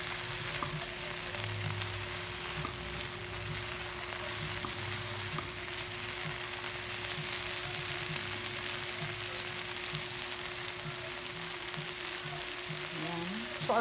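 Garlic, onions, tomato and shrimp paste frying in a pan for sautéed bitter melon, a steady close sizzle running throughout with faint stirring and no speech.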